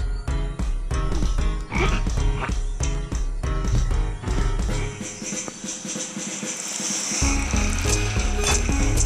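Game audio from the mobile drawing game Draw a Stickman Epic 2, with a frog croaking amid steady background music; the busy, loud soundtrack runs throughout, with no speech.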